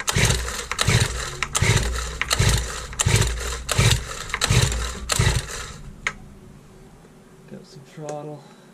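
A Honda GX22 brushcutter engine runs in repeated loud, revving bursts about every half second, rising and falling, then drops to a quieter idle as a voice speaks briefly near the end.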